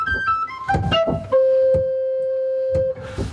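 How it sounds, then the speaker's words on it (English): English chamber organ sounding its 15th stop, two octaves above the played note: a few short high piping notes, then one long sustained bright tone, with soft key and action thumps beneath. "And 15th is because it sounds 2 octaves higher."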